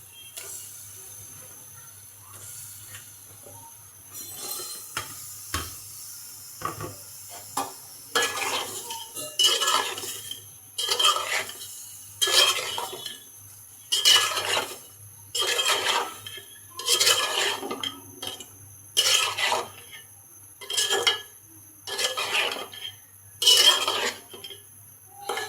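Sponge gourd pieces tipped into a pan of cooked-down spiced curry gravy, then stirred with a metal spatula: loud, close, rhythmic scraping clinks repeating steadily over a low sizzle.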